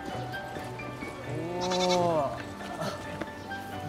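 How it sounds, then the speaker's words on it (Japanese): Goat bleats at a petting corner: one clear, wavering bleat near the middle, with quieter animal calls and people chatting in the background. "ヤギの触れ合いコーナー。"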